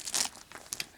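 A small plastic bag found at a dump, holding vintage costume jewelry, crinkles in a few quick, close rustling bursts against a quiet background.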